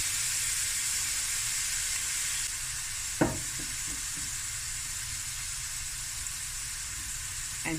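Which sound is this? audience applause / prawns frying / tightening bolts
prawns frying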